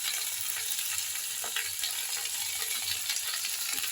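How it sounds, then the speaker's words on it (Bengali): Vegetables fry in a pan as turmeric is stirred in, a steady bright sizzle with scraping and clicking from the spoon, close and continuous with no talking. "হলুদ দিয়ে আর একবার নাড়াচাড়া করে দিলাম যাতে হলুদটা ভালোভাবে মিশে যায়"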